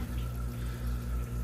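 Green water full of infusoria is poured into a tank of albino kribensis fry, making a continuous, close splashing trickle with a faint steady hum underneath.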